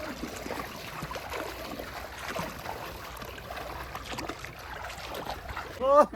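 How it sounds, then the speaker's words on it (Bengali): A wooden rowboat is pushed off into river water, giving a scraping shove and water sloshing under background voices, with a sharper splash right at the end. "তো নৌকা কিন্তু এই জলে নামতেছে"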